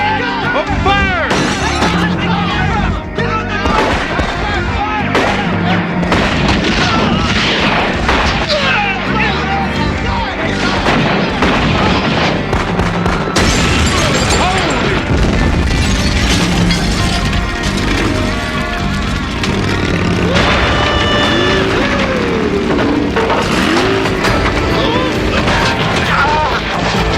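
Gunfire and explosions in a shootout fill a dense, loud stretch of crashes, bangs and shattering impacts that run throughout, layered with music and shouted voices.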